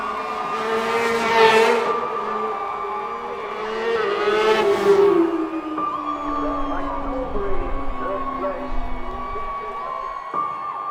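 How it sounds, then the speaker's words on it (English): A racing motorcycle at the 2021 Bob Smith Spring Cup brakes hard into Farm Bends, engine note falling as it slows, then revs over the finish line in a wheelie, loud and close with crowd noise around it. "Hard on the brakes into Farm Bends before a big wheelie over the finish as Harrison takes the 2021 Bob Smith Spring Cup"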